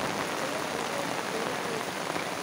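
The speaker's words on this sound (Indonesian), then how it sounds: "Hujan gede." Heavy rain pours steadily, a dense, even hiss of drops hitting surfaces that stays constant and loud throughout, with no voices.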